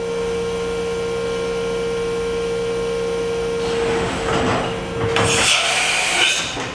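A Matsuura 4-axis horizontal machining center with 500 mm X, Y and Z travel runs a program, giving a steady tonal machine hum. Louder whooshing and clattering bursts of moving axes and air blasts rise near the end.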